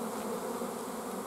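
A dense mass of honeybees swarming from a hive during rainy weather, a steady, close, continuous buzzing drone with no gaps and no voices.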